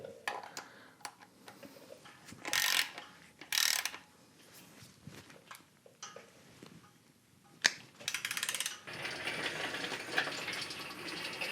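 Torque wrench tightening front cover bolts on an LS engine block during a camshaft swap in a home garage, giving several sharp ratcheting clicks and clacks in separate bursts, close and fairly quiet, with no talking.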